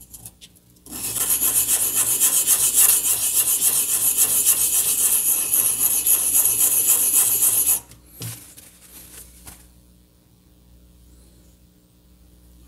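A knife blade is drawn across a small pocket sharpener in a continuous, close, rasping scrape for several seconds, then stops, leaving a few faint clicks and quiet handling.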